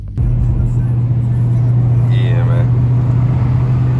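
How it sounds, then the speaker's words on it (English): A straight-piped AWD Dodge Charger Hemi V8 with an X-pipe and no resonators or muffler idles with a loud, deep, steady rumble up close, with a brief rising tone partway through. "We got X pipes in the middle, straight pipe to the back."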